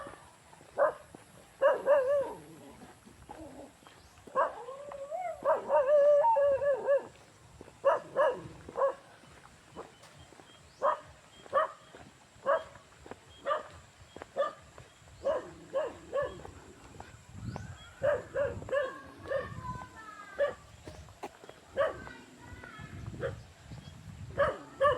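Dogs bark in repeated sharp bursts, several voices overlapping with some whining, loud and fairly close, along an outdoor walk or hike.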